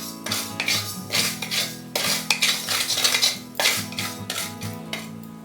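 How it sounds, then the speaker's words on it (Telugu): Fenugreek seeds are dry-roasted in a kadai without oil, a spoon scraping and clinking against the metal pan in repeated strokes, close and fairly loud with no talk. "ఫస్ట్ మనం బాండీలో నూనె లేకుండా 2 స్పూన్స్ మెంతులు వేయించుకోవాలి."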